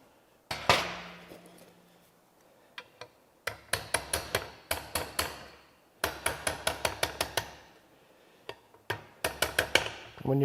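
A hammer strikes a punch during the teardown of a smoked NV4500 manual transmission, in sharp metallic taps that come in rapid bursts of several blows with short pauses between them, close and loud, with no talking.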